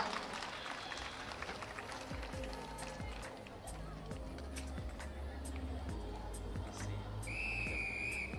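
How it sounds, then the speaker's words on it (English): A referee's whistle sounds near the end to start a schoolgirls' netball match, a short high shrill blast over a busy indoor court with running feet, crowd noise and commentary talk throughout. "We got the first sound of the whistle right here."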